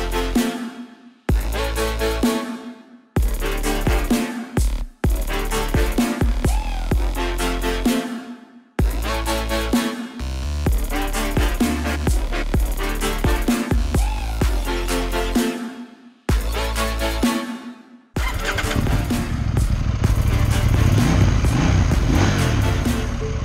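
A KTM Duke 790 motorcycle's engine is started and revved several times at close range, with loud bursts separated by short pauses, then settles into a rough, steady running note.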